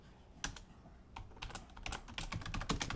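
Close, quick bursts of keystrokes as JavaScript code is typed on a computer keyboard, irregular clicks building into a denser run of typing, with no voices.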